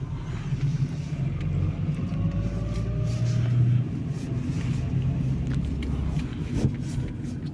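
Interior drive noise of a 2012 Dacia Logan MCV with a 1.6 MPI petrol engine on a test drive: a steady low engine rumble and road hum throughout, with a faint rising engine tone midway.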